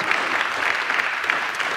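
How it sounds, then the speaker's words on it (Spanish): Congregation applauding during a Spanish-language church sermon, a dense, even wash of clapping from a sizable crowd that holds steady throughout. "Damos un aplauso al Señor por eso."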